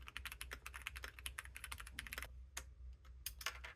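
Typing on a Keychron C3 Pro mechanical keyboard, a quick run of crisp clacky keystrokes close up, then a short pause and a few scattered presses, quiet overall.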